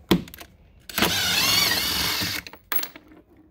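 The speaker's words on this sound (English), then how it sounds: "Okay, I got my 10 millimeter socket. I'm going to loosen these two screws." A power driver fitted with a 10 mm socket loosens screws on a Club Car Precedent golf cart body, one steady whirring run of about a second and a half, close and loud, set between brief clicks and handling knocks.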